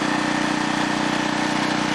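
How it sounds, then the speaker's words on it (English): A portable electric generator engine runs steadily at a construction site in the Dominican Republic, giving a continuous, even mechanical drone with a low, pulsing hum that stays loud and unchanging throughout, with no other sounds over it. "The electric generator is extremely helpful here as the men drill holes."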